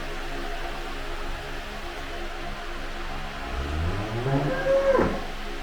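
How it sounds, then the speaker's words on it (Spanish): Red heifers on a farm in Israel lowing, a long deep moo rising and bending near the end over steady outdoor background noise, moderately distant. "Cada una de estas vacas está siendo observada constantemente"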